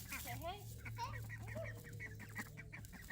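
Domestic chickens clucking outdoors near ducks, a busy overlapping chatter of short close clucks and rising calls under a low steady hum, with faint voices mixed in.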